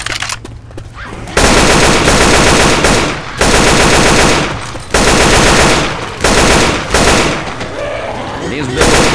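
Loud automatic gunfire in Left 4 Dead 2, long dense bursts of rapid shots broken by short pauses, close and dominant, with voices shouting now and then.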